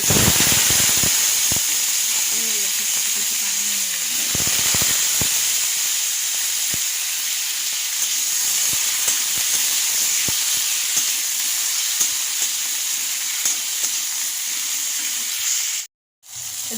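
Mustard seeds crackle in hot oil as vegetables fry in a pan: a steady close hiss runs throughout, with scattered sharp pops and a brief dropout near the end.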